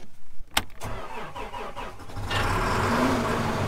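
A Case 340 Magnum tractor engine cranks and catches, its churning start building into a loud, steady running rumble close by.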